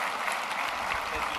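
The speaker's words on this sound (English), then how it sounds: "Let's give them a round of applause." A presentation audience applauding, a brief steady wash of clapping with faint voices mixed underneath.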